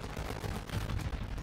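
Gunfire and explosions from the Warzone Mobile battle royale shooter, with grenades thrown in during a firefight; a dense, continuous rumble of shots and blasts fills the short stretch at fairly low level, with no talking.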